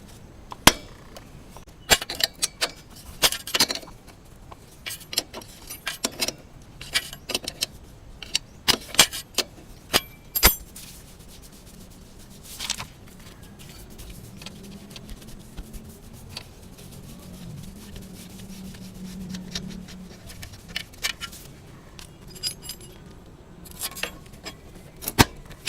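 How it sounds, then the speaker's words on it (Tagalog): Metal wrench and bolt work on a Honda Wave 100 motorcycle wheel, removing a bolt with a number 19 wrench: scattered sharp clinks, taps and rattles of steel tools at close range, irregular and intermittent, with no talk. "tanggalin natin yung tornilyo na to gamit ang number 19 na wrench sa kabila"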